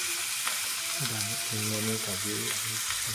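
Chopped onion sizzles in hot oil as it is sautéed for a dhaba-style shev bhaji, a steady close frying hiss, with a voice talking over it partway through.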